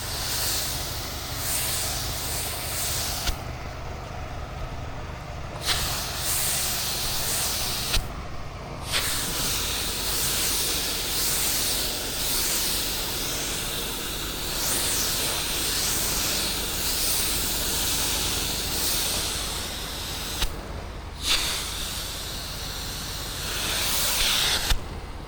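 A throttled-up pressure washer sprays roof cleaning mix during roof washing in Clermont, Florida. The loud, continuous hiss runs close by and drops out briefly a few times before starting again.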